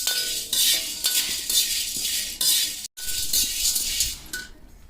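Whole spices such as cinnamon, cloves and star anise rattle and clink against a metal pan with a utensil while dry roasting, a busy continuous scraping with brief pauses, close and fairly loud, no talk.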